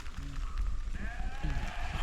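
Sheep from a flock of about a hundred bleat a couple of times, wavering calls standing out over a low, rumbling outdoor background.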